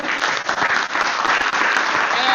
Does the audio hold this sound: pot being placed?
no